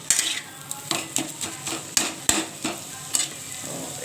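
Spices for fish roe bhujia sizzle in a hot pan while a spoon stirs them, scraping and clinking against the metal in quick, uneven strokes over a steady frying hiss.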